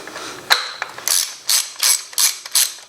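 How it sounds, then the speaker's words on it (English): A 10mm ratchet works loose the coil pack bolts on a BMW E36 engine: a handful of sharp, rapid clicking bursts in steady rhythm, close and alone. "now taking our 10mm, we're just going to take off the coil packs"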